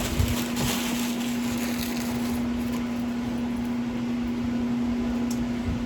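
A rotisserie smoker turns a dry-aged prime rib, giving off a steady motor hum with a constant tonal drone under a broad, even wash of noise.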